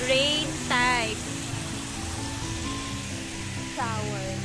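Steady hiss of water spraying from an overhead rain shower at a glamping site by a river, with a few high voices or bird-like calls rising above the wash.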